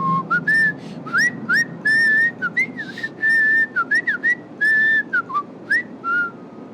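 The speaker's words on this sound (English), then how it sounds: "Don't blow whistle on my ears." Whistling in the video game Starfield, a rapid sequence of shrill, pitch-bending whistled notes and chirps in quick bursts over a low steady background hum, loud and close with no speech.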